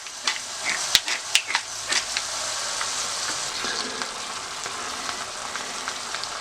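Shrimp seasoned with nutmeg and salt fry in a pan for stroganoff, giving a steady sizzle with sharp crackles and pops, loudest near the start.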